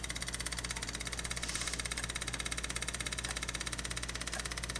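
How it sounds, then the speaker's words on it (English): A 1963 Chevrolet C10 truck, abandoned for 37 years in a field, runs at a steady idle with an even, rhythmic ticking pulse, fairly quiet and with no talking. "Should I do a jack up the throttle light?"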